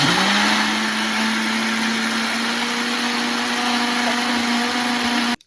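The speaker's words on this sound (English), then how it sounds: "I am going to blend it up a little more so I can get a little more smooth though" A blender runs continuously at a steady high pitch while blending vegan ranch dressing made without mayo, a loud, even whir that cuts off abruptly at the end.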